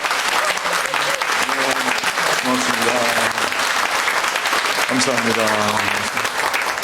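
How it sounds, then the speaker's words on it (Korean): A church congregation claps warmly for the standing 45th-cohort fasting group during a Korean Sunday worship service: dense, steady applause filling the room from start to finish, with someone speaking over it. "격려와 따뜻한 축하의 박수 한번 해주시다"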